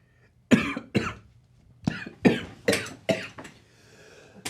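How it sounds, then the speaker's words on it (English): A person coughs hard in a burst of about eight sharp, close coughs spaced irregularly after tasting an overly hot homemade sauce, followed by a brief breathy exhale. "I coughed it up into my nose and my sinuses"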